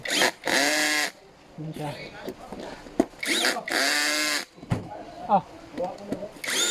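A power drill tightens the bolts on a black fabric counter-high chair, two loud whining bursts of the motor close by, separated by a person talking and a few tool clunks.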